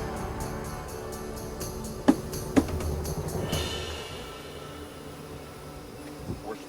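Honey bees swarm around a hive during a package installation, a continuous droning buzz with a couple of sharp knocks partway through, close and steady throughout.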